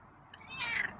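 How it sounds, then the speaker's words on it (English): A feral cat gives a single faint, rising meow over a steady background hiss, quiet and somewhat distant. "Give me one more meow?"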